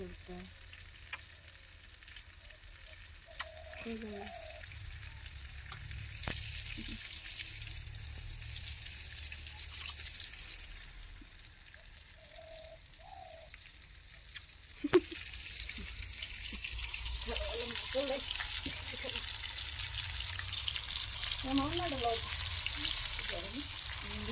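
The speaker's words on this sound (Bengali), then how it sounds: "মাছটা প্রায় অনেকটা বাজা হয়ে গিয়েছে" Fish fries in a pan with a continuous crackling sizzle that grows louder and brighter partway through, while a voice talks intermittently over it.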